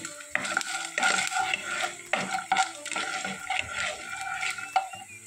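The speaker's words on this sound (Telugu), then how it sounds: "ఈ స్పూన్ ఆయిల్లోనే ఇవన్నీ దోరగా వేపుదాం." Lentils and spices roasting in a spoonful of oil in a pan, with repeated scraping stirs and metal-on-pan clinks over a faint sizzle, close and moderately loud, in an irregular rhythm.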